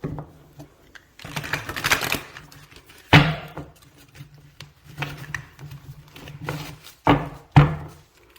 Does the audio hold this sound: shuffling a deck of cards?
yes